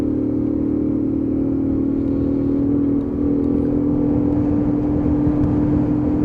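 A Lexmoto Aspire 50cc motorcycle engine holds a steady, close buzzing drone with a brief dip midway, then resumes at the same pitch, with no voices.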